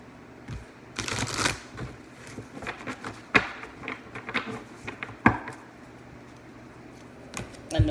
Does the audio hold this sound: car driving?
no